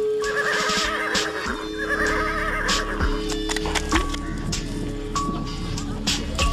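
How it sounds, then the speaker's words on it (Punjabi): A horse whinnies loudly and close by, with hooves clip-clopping underneath, amid a busy outdoor scene with other background sounds. "ਹੁਣ ਤਾਂ ਸਾਲਾ ਘੋੜਾ ਵੀ ਲੱਭ ਗਿਆ।"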